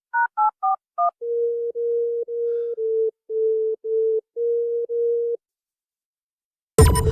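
A phone call placed to a son: a few quick dialing tones, then a repeating low busy signal in even, evenly spaced beeps, loud and close, followed by silence and a sudden burst of noise at the end.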